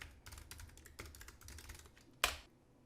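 Fast typing on a computer keyboard as a domain name is entered, a close run of light plastic key clicks in quick bursts, ending with one louder key strike, with no talk.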